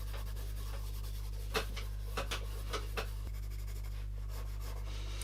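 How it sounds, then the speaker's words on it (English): Fingers rub and blend pencil on paper: a few soft, brief scuffing strokes over a steady low hum, faint and close, with no voices. "I'm just going to soften up some of this with my fingers and just rub through it"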